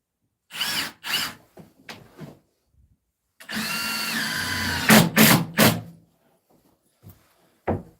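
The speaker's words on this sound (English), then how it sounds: "So might as well just put screws in it." A cordless power drill drives screws into Trex deck boards outdoors, starting with a few short bursts, then one long whirring run that ends in several quick pulses, and finishing with a final brief zip.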